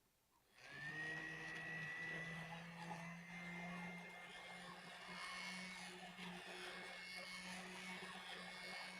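An immersion blender whirs steadily while blending in a kitchen during a cooking demonstration, starting abruptly and holding a loud, continuous motor drone with a high whine for the rest of the clip, with no talk over it.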